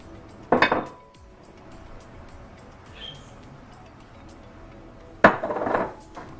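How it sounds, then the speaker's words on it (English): Sugar being tipped into a mixing bowl for flapjack cookie dough, heard as two short clattering bursts of granules and utensil striking the bowl near the start and end, with a quiet pause between. "into our bowl we're going to add in our sugars"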